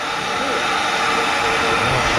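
Propane torch roaring steadily and loudly at close range while heating rusted-over studs and nuts on the exhaust flanges of a Holden Rodeo during an engine swap, a continuous broadband hiss.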